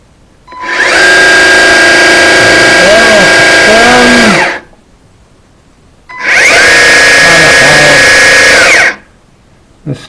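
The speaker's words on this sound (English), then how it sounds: "let's give the motor a run." An electric motor on a model vehicle whirs loudly in two steady bursts of about four and three seconds, each with a pause between, its pitch sliding slightly, close by and with no talking.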